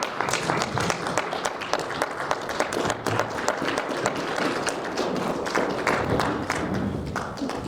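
A hall audience at a young African leadership summit applauds after a speech by a prime minister, steady loud clapping from many hands with crisp individual slaps throughout.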